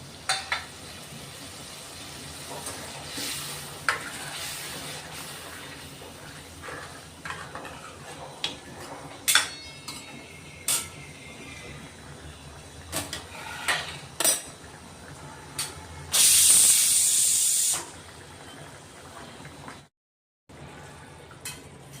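Half-cooked drumstick pods tipped into oil-released masala for a rustic village-style vegetable, with repeated clinks and scrapes of a spoon against the pan and a brief burst of sizzling, close up and without talk.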